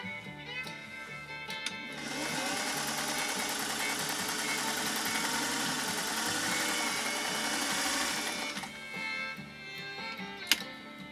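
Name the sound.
Singer 404 sewing machine sewing polyester ribbon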